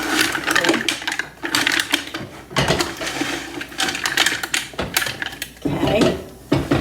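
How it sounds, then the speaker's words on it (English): A blender chops through cooked, opened mussels in a pot, running in loud, choppy bursts broken by short pauses. "so I'm gonna blend all these up"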